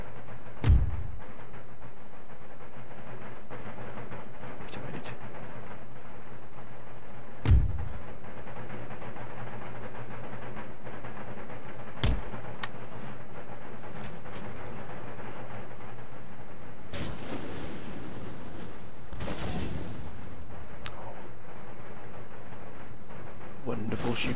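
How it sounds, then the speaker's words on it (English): Cannon fire from an Empire: Total War battle: a few heavy booms at widely spaced intervals, each a low thud that stands out over a steady bed of battlefield noise and a speaking voice. "wonderful artillery marksmanship there"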